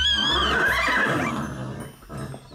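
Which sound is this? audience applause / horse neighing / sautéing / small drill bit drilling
horse neighing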